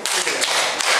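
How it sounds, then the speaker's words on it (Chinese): A classroom of children clapping in a quick burst of applause, close and lively, filling the whole short moment. "掌声三下，有请。"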